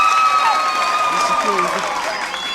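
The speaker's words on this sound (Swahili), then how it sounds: "Pigieni mheshimiwa makofi." Crowd applause and cheering for an MP at a school gathering in Kabuchai, a dense, loud wash of clapping with voices mixed in, continuous for the whole moment.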